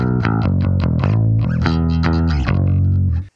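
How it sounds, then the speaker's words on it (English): A bass guitar plays a run of single low notes, thick and slightly overdriven, moving through a riff of single-note versions of power chords, without any talking. "if I just took those power chords and I played single note versions of it on the bass,"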